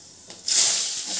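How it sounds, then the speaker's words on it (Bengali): Cumin seeds and dried chillies hit hot oil as a tempering for a meat curry, bursting into a loud, close hiss that settles into a steady sizzle. "তার জন্য জিরে ফোড়ন দিলাম, শুকনো লঙ্কা দিলাম"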